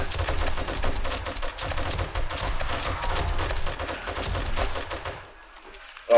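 A big gun fires in the 7 Days to Die zombie game during a horde fight in a megacity, a loud burst of rapid automatic shots over several seconds before it cuts out abruptly, with no talk.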